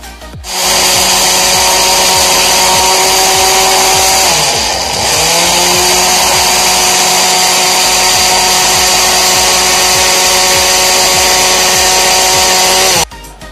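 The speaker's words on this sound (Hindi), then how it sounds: "अभी हम इसको ग्राइंड करेंगे, इसका पाउडर बनाएंगे।" An electric grinder whirs steadily at high speed while powdering dried garlic, running loud and continuous for about twelve seconds, with a brief dip in pitch partway through before it stops abruptly.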